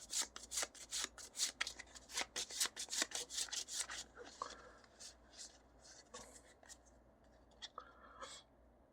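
Playing cards riffle shuffled on a tacky surface: a rapid flurry of close, crisp flicking clicks for several seconds, then slower scattered card taps and rubbing, soft and intimate.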